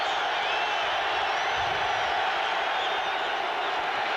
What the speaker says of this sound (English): Crowd trying to help the defense of the Raiders.